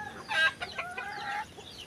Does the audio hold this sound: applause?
no